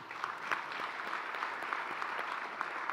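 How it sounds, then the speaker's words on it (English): An audience at a sustainable energy week conference applauds the panelists after a session, giving steady, moderately quiet clapping that keeps up evenly from start to finish. "Please, let's give them a round of applause."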